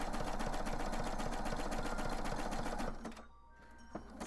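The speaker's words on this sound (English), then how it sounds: "Singer machines are so loud" A Singer or Brother sewing machine satin stitching, a loud, fast, steady mechanical rattle of needle strokes for about three seconds before it stops and the room goes quiet.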